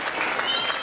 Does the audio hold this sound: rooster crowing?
no